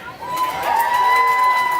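A county fair crowd at a mutton bustin' event cheers and shouts in a swelling roar, with a tonal whistle-like line running under the noise.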